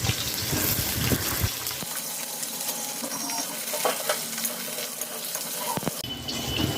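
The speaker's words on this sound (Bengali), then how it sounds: "বেগুনগুলোকে আমি ওই একই তেলে ভেজে নিচ্ছি।" Eggplant pieces frying in the same oil used for mourala fish, giving a steady close sizzle with occasional stirring scrapes and clinks throughout, no voices.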